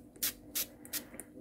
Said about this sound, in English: I'm going to spray this one with oil.